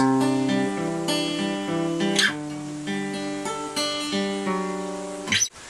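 Clean electric guitar picking section from the verse of a song, a run of ringing picked notes in a steady pattern, played alone and close.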